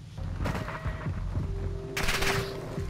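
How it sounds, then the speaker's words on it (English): Gunfire in the video game Call of Duty DMZ, with rapid automatic bursts and sharp shots cracking in quick succession, close and loud, followed by a denser volley near the end. "Alright, who is shooting at me?"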